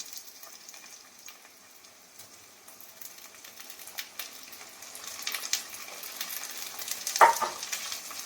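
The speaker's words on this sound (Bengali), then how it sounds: "ক্যাপসিকামটা দিয়ে আমি একটু ভালো করে নেড়ে নিই।" Capsicum and onions frying in a pan while being stirred, a steady soft sizzle building gradually louder, with scraping stir strokes and a sharper clatter near the end.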